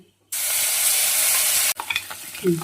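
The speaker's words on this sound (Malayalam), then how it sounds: "ഇനി നമുക്ക് ഇച്ചിരി എണ്ണയിൽ ശകലം എണ്ണ ഒഴിച്ചിട്ട് കടുവും പൊട്ടിച്ച് നമുക്ക് അതിലോട്ട് നിന്നിട്ട് വഴറ്റിയെടുക്കാം" Mustard seeds burst and splutter in a small amount of hot oil for a Kerala chilli paste, a loud sizzling hiss that cuts off abruptly, followed by a few clinks and light rattles.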